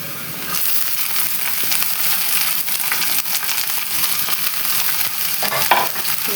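Bell peppers added to cooked onions sizzle steadily in a hot pan, with loud continuous frying hiss and occasional stirring scrapes and clinks throughout.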